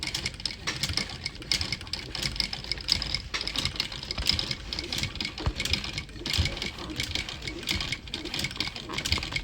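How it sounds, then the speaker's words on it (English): A sewing machine runs steadily, stitching brown oxford fabric in slow mode: a continuous close mechanical whir with a fast, even stitching pulse that lasts the whole stretch, with no speech. "You can put your machine in slow mode and stitch just like this"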